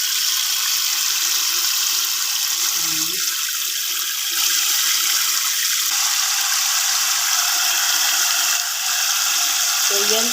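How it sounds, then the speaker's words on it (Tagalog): Water runs steadily into a pot holding raw washed chicken breast for home-style boiling, a continuous hiss and splash throughout with a brief clink of cookware. "Lalagyan natin siya guys ng tubig."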